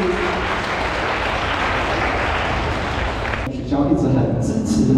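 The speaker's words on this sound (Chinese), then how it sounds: "来各位小朋友掌声欢迎" Applause from children and guests at a primary school graduation ceremony, a dense steady clatter of clapping that fills the space loudly, then thins and gives way to voices and crowd noise near the end.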